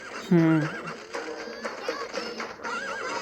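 A horse whinnies loudly near the start of a Patapon rhythm game trailer, one sharp neigh over background music, followed by a narrator speaking.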